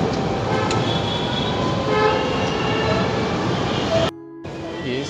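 A Delhi Metro train at Noida Sector 16 station gives a loud, steady rumble and rail roar, carrying a brief horn-like tone before the noise cuts off abruptly near the end.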